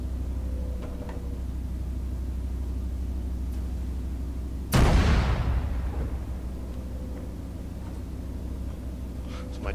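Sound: Scorcher artillery firing shots in a video game

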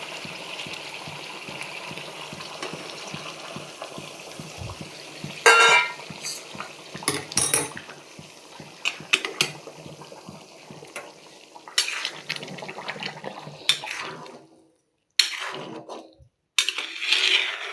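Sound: pouring hot water into pot of chicken curry

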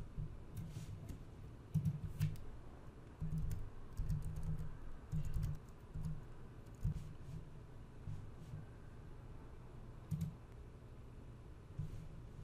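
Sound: typing a search word on a computer keyboard

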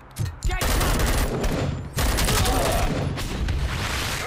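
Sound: gunfire in the video game Robocop: Rogue City

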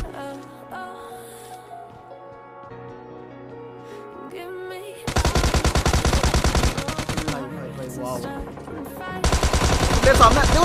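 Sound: gunfire from the video game BGMI Lite, M416 rifle

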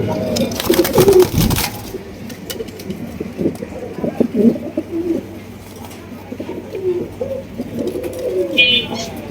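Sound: king pigeons cooing

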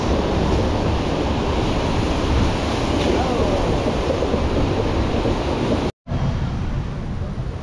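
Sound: FlowRider artificial surf wave on a cruise ship

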